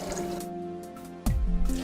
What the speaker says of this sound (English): the coolant is pretty much drained out. It's a few drips left.